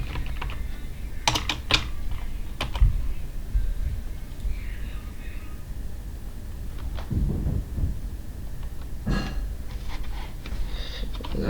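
Scattered clicks of typing on a computer keyboard in short irregular bursts, close by, over a steady low background hum.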